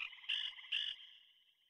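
Frogs in a Mini Einsteins video game croak a short melody: two bright, buzzy croaks in quick succession over a sustained tone that fades out, clean and close.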